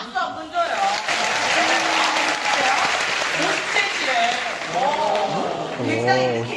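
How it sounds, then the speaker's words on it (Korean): Studio audience at a KBS talk show taping applauds in a broad, steady wash, while a voice keeps talking over the clapping throughout. "예, 한번 박수 한번 줘요."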